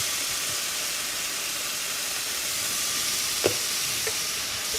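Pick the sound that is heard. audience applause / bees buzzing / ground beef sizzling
ground beef sizzling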